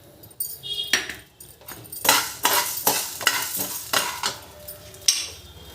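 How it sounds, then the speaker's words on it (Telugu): Lentils are stirred and fried in a pan for a sesame spice powder, with scraping spoon strokes and rattling against the pan over a light sizzle, close by and fairly quiet, without speech. "పప్పులు కలర్ మారే వరకు వేయించుకోవాలి."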